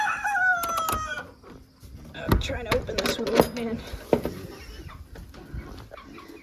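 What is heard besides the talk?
chickens clucking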